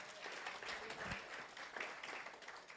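A church congregation at a revival service claps together, a steady broadband patter filling the room at moderate level without speech on top.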